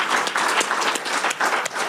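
Round of applause from the crowd at a horror convention panel with writer Mick Garris, dense clapping from many hands, loud and steady throughout.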